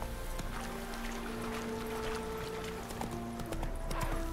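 Roach the horse trots in The Witcher 3's Hearts of Stone expansion, her hooves clip-clopping in a steady, fairly close rhythm over continuous sustained game music.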